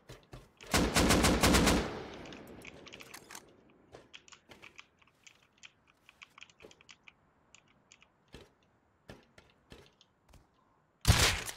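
Rapid bursts of gunfire in the survival video game Rust, a loud volley near the start and another at the end, with sparse clicks and taps between.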